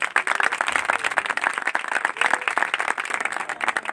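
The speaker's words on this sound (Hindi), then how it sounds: "आपकी भरपूर तालियां" An audience at a church gathering claps warmly, a dense, even burst of many hands applauding for about four seconds without a break.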